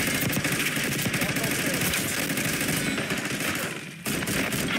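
Dense, continuous machine-gun fire in Call of Duty: Black Ops 6 multiplayer, loud and close, with a brief dip near the end before the shooting resumes, and game voice announcements mixed underneath.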